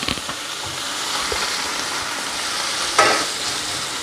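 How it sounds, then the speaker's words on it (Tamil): Onion and tomato sautéing in hot oil for a hotel-style sambar, a continuous near sizzling hiss with a few light stirring knocks and a brief louder flare near the end. "வெங்காயம் நல்லா வதங்கிடுச்சு. இப்போ ஒரு தக்காளி சேர்த்துக்கலாம். தக்காளியும் நல்லா வதங்கட்டும்."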